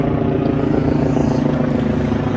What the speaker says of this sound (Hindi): और ये हेलीकॉप्टर जा रहा है ऊपर से